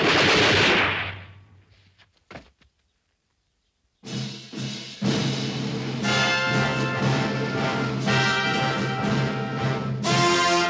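A firing squad in a western movie lets off one sharp, loud rifle volley that rings out and decays over about two seconds. Near silence follows, then a busier, sustained passage of sound begins.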